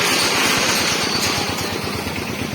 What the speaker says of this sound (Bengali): তো এই যে বাইক বের করছে, বাইক আমাদের এখানে থাকে।